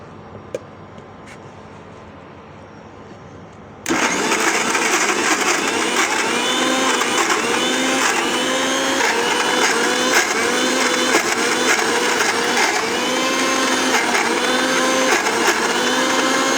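After a quiet start, a blender blending avocado mousse roars into action, a loud steady motor whine with a rhythmic churning pulse that continues to the end without speech.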